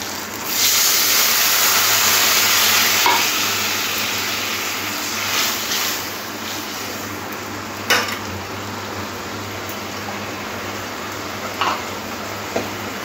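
Water poured into a pan of hot spiced masala with turmeric, a steady loud sizzle and hiss that eases slowly, broken by a few sharp clinks of a utensil against the pan.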